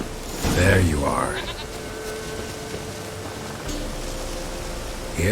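A goat bleats loudly in The Witcher 3: Wild Hunt, one wavering cry near the start over light rain-like ambience, with a brief sound at the very end.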